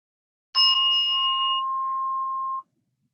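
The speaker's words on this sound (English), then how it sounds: "I'll ring the bell one final time to bring us back into this moment." A single yoga bell or singing-bowl chime struck once at the close of a practice, its clear ringing tone decaying steadily over about two seconds before cutting off into silence.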